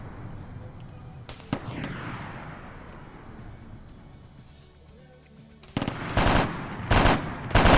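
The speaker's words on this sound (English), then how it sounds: "Still hearing auto cannon fire." Bursts of autocannon fire in a military video game, a sharp shot early on followed by loud rapid volleys in the final seconds, with a faint rumble between.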